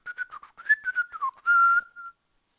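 A person whistles a short, wandering tune in quick bright notes, ending on a held tone, alone and close with no talk.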